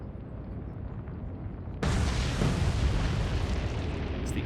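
A torpedo strikes a ship in the naval game Atlantic Fleet, and a sudden loud explosion breaks over a low rumble, then a broad roaring blast carries on to the end.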